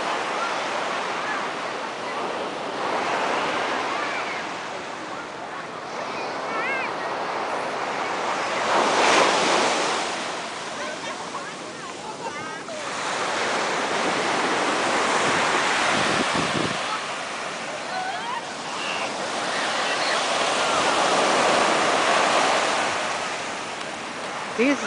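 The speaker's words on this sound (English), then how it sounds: "Usually the waves are shorter than today" Ocean waves crash and wash onto a white-sand beach at Maceió, Alagoas, Brazil, in slow surges, loud and close, with gusty wind buffeting the microphone.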